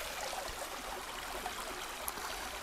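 A mountain stream in a Trabzon highland valley flows steadily over its natural bed as snow melts, a soft, even rushing hiss with faint gurgles.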